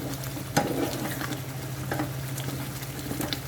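Besan chickpeas (chole) cook in a pan with a steady, close sizzle and bubbling, plus one or two brief stirring knocks near the start and midway.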